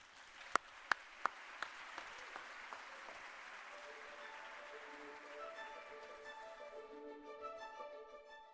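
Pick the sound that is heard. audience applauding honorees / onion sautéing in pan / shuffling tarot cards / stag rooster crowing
audience applauding honorees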